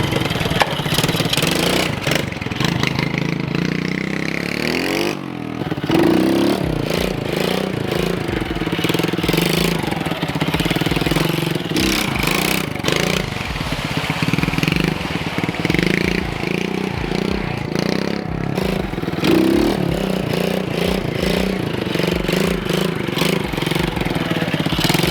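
A dirt bike engine revs up and down under changing throttle, its pitch rising and falling in repeated sweeps. The steady, close motor drone carries on with no break for the whole stretch.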